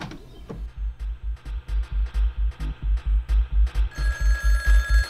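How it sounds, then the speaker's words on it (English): A banana phone rings in the comic spy game Jazzpunk. A fast electronic bell trills in a steady, repeating pulse, close and clear. "Oh, the phone is ringing."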